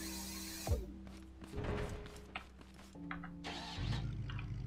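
A small built vehicle engine in Scrap Mechanic cranks and catches, a short whoosh followed by an uneven mechanical hum and faint knocks, with brief bursts of effort that sound like sputtering.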